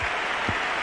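A cricket crowd at an Australia versus Pakistan Test match in 1984 applauds Greg Chappell, a dense, continuous wash of clapping that stays loud through the whole short moment.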